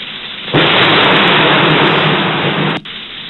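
A sudden loud burst of thunder from a thunderstorm right after a nearby lightning strike, a dense roaring rumble that holds steady for over two seconds then cuts off abruptly.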